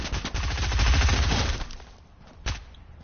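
Gunfire in the video game Fortnite, a dense fusillade of rapid automatic shots for over a second, then fading, with one more sharp burst near the end.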